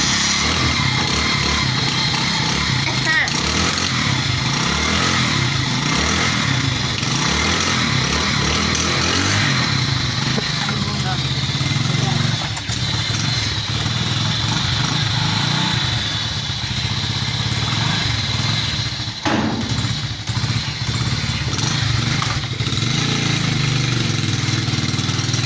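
A motorcycle engine running close by for a long stretch, a loud continuous mechanical drone with a rough pulsing texture and slight dips in level.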